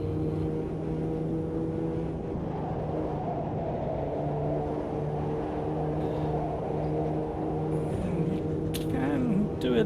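Car engine in a racing sim game, a small car with gearing off between fourth and fifth, droning steadily and climbing toward peak revs, with a gear change near the end and a voice talking over it throughout.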